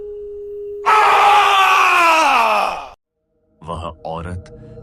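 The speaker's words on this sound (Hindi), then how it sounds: "राहुल की चीख गूंजती है" A man's long, loud scream in a horror story, rising suddenly, holding strained and wavering for about two seconds before cutting off, followed after a pause by short vocal bursts.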